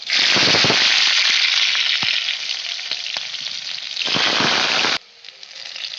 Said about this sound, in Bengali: সামান্য একটু কালো জিরে নিয়ে নিলাম এখন দিয়ে দেবো কুচানো রসুন